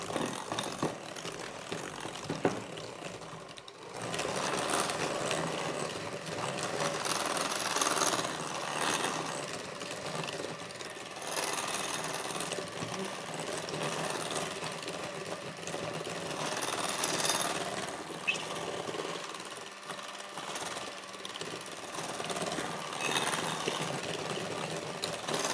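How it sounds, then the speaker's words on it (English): Electric mixer creaming butter and sugar for chocolate chip pretzel cookie dough, a steady close whirring motor hum with grinding texture running continuously throughout, no talking. "Cream the butter and sugar together really well."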